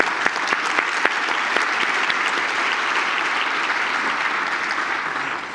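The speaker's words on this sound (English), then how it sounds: "let's give our panelists a round of applause" Dense, steady applause from a conference audience for panelists at an annual meeting town hall, a few sharp individual claps standing out early before a continuous even roar that eases slightly at the end.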